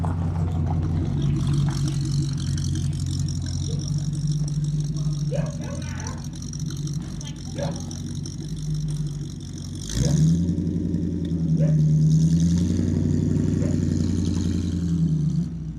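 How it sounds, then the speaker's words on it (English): A classic car engine idles with a deep, rumbling burble, then revs up sharply partway through before settling into a loud, throaty idle again, with people talking nearby. "I am going to say though that the best sounding car that Sonny had on the classic end is this guy right here."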